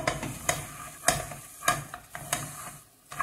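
Peanuts stirred through crystallizing sugar for peanut praline scrape against the pan in a steady rhythm of gritty strokes, with light sizzling between them, close up and with no voices.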